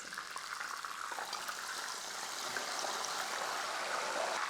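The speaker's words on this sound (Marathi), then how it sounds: "पाणी घातल्यानंतर थोडेसे बबल्स तयार होतात आवाज थोडासा वाढतो" Hot oil for frying banana chips bubbles up after a splash of turmeric salt water is added, a steady broadband hiss and fizz that builds slightly in loudness over several seconds, with no voices.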